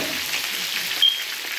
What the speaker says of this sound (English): Yeah, we'll make it fry some more.